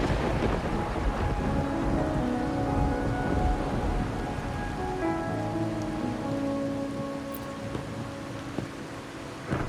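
Steady rain falls in the video game Wuthering Waves, a dense continuous hiss of drops on surfaces with music playing over it and no voices.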